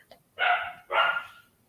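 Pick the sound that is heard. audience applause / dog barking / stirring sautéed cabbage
dog barking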